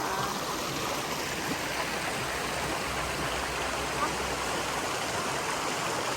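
Stream water flows steadily near a bridge in Canada, a close, continuous broadband rush with no breaks, loud and even throughout.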